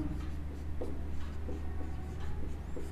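Pen writing on paper during a Class 11 maths lesson, a steady soft scratching with repeated short strokes against a constant low hum, with no voices.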